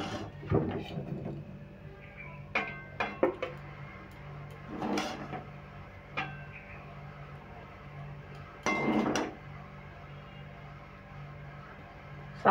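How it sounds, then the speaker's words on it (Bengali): Chicken pasta is poured from a pan into a bowl in a home kitchen, heard as a few scattered clatters and scraping knocks of utensil against cookware separated by quiet gaps. "এবার আমি একটা পাত্রে ঢেলে নিচ্ছি।"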